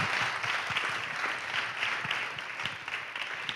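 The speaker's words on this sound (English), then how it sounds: "Let's give the governor a round of applause" Audience applause for a governor at a public program, a steady, moderately faint patter of many hands clapping throughout with no voices.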